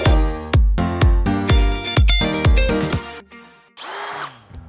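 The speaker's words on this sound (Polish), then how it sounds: "To niewielkie urządzenie, które trzymam w ręku, to wiertarko-wkrętarka marki Bosch GSB12V30." Bosch GSB12V30 12V cordless drill-driver, several short loud bursts of the motor spinning up and winding down in a regular rhythm, close and clear, followed by a brief higher whir at the end.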